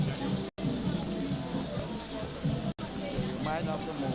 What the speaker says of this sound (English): So it's a lot of rain.